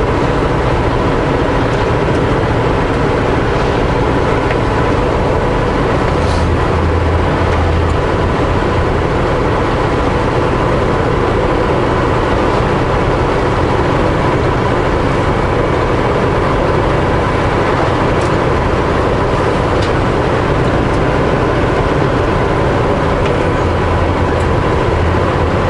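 A truck travelling a snowy, muddy road in the Okanagan, a loud continuous road and engine roar with heavy rumbling tyre noise from inside the cab, steady throughout and without speech.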